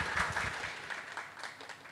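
Applause from a lecture audience at a Marathi talk on life balance, a dense, steady patter of many hands clapping that fades gradually over two seconds.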